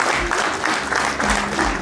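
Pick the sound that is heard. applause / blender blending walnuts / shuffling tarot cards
applause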